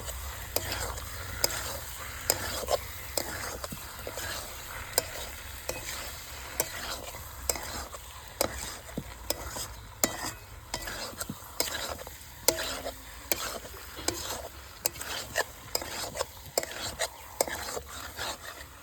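Parboiled, fried new potatoes sautéed and stirred in a pan for a vegetarian Bengali aloo dum, a quiet, steady sizzle with frequent light scraping and clinking strokes, faint murmuring at times.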